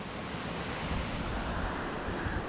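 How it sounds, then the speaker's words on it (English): A fast, ferocious river rushes beneath an abandoned 1770 stone bridge in wild Scottish land, a steady dense roar of churning water with wind buffeting the microphone, no voices. "just look how ferocious this river is when we look each direction from here"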